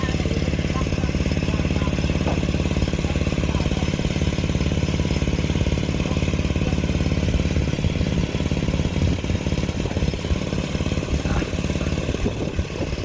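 A tractor's diesel engine runs steadily and loudly throughout, a continuous low chugging drone with some clatter, close by.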